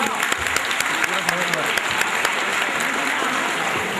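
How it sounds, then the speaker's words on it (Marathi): A school gathering audience claps in a dense, steady burst of applause, fairly close and loud, holding throughout with no pause. "त्यांच्यासाठी पुन्हा एकदा जोरदार टाळ्या वाजवा"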